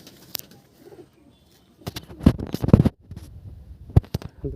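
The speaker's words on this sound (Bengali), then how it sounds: "এটা আন্দ্রা পায়রা" Andhra pigeons in a home loft cooing up close: soft low coos with a few sharp taps and short flutters, irregular and fairly near.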